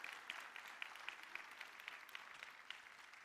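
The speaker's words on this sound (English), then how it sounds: "I think that deserves another round of applause" Applause from a church congregation at a Sunday service, a steady wash of many hands clapping at moderate volume throughout, fairly distant and without talk.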